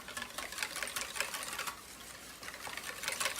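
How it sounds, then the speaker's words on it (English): Rapid whisking of baking powder into a lemony yellow mixture in a bowl, quick rhythmic clicking strokes in uneven bursts, close but soft, with no talking. "Then we'll add our baking powder to that. Whisk that in."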